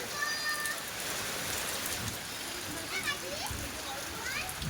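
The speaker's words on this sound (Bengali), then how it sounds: "এসে দেখি প্রচন্ড বৃষ্টি হচ্ছে" Heavy monsoon rain pours steadily at a rural family home, a dense continuous hiss of drops hitting surfaces and standing water, loud and close throughout with a few faint bird chirps above it.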